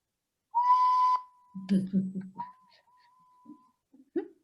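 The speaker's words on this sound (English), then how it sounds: "Enter a bit of Japanese history to clay on the beach in Hawaii, Joe Hawley's whistle cup." A clear, high whistle tone from a ceramic clay whistle cup sounds twice, once short and once longer and slightly wavering, with brief clattering and handling noises in between.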